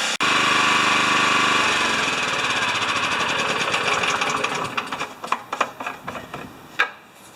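Small Honda lawn mower engine running steadily as it warms up, a loud continuous drone that later turns rougher and sputtery with irregular pops near the end.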